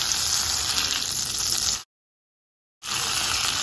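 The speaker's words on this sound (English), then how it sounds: "Over a medium high heat skillet, I'm gonna add 1 tablespoon of butter. I'm gonna add some of the drippings from the turkey." Butter and turkey drippings sizzle steadily in a skillet over medium-high heat, a dense, close frying hiss that cuts out briefly and then resumes.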